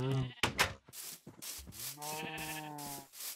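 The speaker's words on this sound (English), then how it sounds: "A bunch of multicolored sheep." Sheep in the Minecraft video game bleat several times in quick succession, wavering game bleats heard near and fairly quiet over soft scraping noise.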